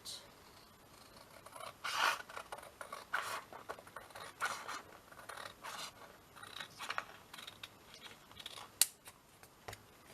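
Scissors cut paper for a craft folder, giving repeated quiet snips and rasping slices at close range in an irregular rhythm, with faint rustling of paper between cuts.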